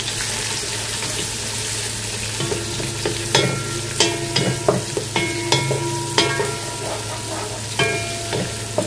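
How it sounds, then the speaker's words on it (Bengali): Steady sizzle of onions frying in hot oil, with clinks and scrapes of a utensil stirring the pan at irregular intervals. "তো পেঁয়াজটা ভাজা হোক, তারপরে আবার দেখাচ্ছি যে কী কী মশলা দিই।"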